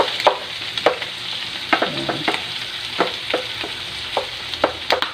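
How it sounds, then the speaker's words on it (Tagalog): Garlic, onion and stem mushrooms sizzle in a pan with repeated sharp stirring scrapes and clatters over a soft, steady frying hiss. "Bawang, sibuyas at kasama ng ating stem mushroom para medyo ma-fry ng kaunti."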